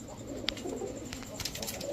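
Pakistani Teddy, racer and high-flyer Giribaz pigeons coo softly in a short, low murmur, with faint background clatter and a brief sharp click near the start.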